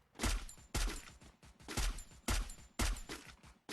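Rapid bursts of gunfire in the mobile shooting game Free Fire, several sharp punchy volleys repeating at an even rhythm about every half second, loud and close with no voices over them.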